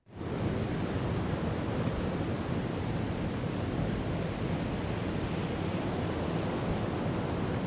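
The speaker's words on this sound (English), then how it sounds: "big waves and so on. Yeah, there are in front of us." Heavy seas in UBOAT around a surfaced Type VIIB submarine, 1941, rising at once into a constant, full rush of crashing water and wind that holds evenly and loudly throughout, with no one talking.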